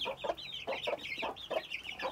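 Month-old chicks clucking and cheeping while they feed, a close, busy run of short repeated calls in quick irregular bursts.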